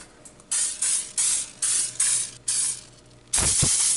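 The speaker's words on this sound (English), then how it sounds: "You'll just want to get some cooking spray." Several short hissing bursts of aerosol cooking spray onto a tray, close and fairly loud, with brief pauses between, ending in a longer, stronger blast.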